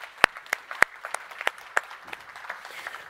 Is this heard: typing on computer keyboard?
no